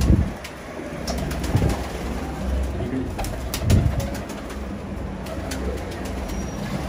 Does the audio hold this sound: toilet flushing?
no